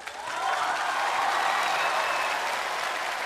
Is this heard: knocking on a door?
no